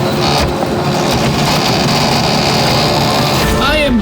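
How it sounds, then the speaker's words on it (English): A defective home printer running very loudly, a constant dense mechanical roar and whir that holds level throughout, with a brief squeaky warble near the end. "This is not just a slow printer. This has to be a defective."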